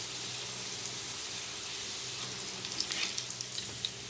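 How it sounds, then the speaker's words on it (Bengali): Butterfly nimki frying in hot oil on an iron tawa, a steady close sizzle with brief crackling pops toward the end, no voices over it. "আমি তাওয়াতে কেন ভাজছি"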